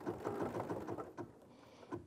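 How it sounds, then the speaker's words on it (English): An embroidery machine stitches out a quilting design with a steady, rapid mechanical chatter of needle strokes, loud and close, running throughout without talk. "So now my embroidery design is ready to stitch out. I simply press the start button."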